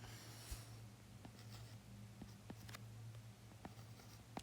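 Pen or marker writing out a question on a board or page, a quiet scratchy series of light strokes and taps scattered irregularly over a soft hum, with no talking.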